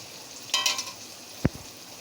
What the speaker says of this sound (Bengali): এই দেখো এরকম উল্টে পাল্টে আমি একটু বেগুনগুলো আর টমেটোটা ভেজে নেব।